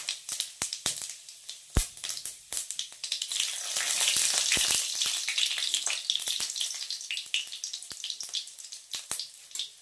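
Panch phoron and split dried red chillies frying in hot oil, a loud continuous crackling sizzle dense with sharp pops, swelling in the middle and thinning out toward the end.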